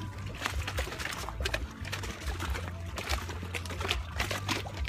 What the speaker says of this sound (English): You can hear the water crashing.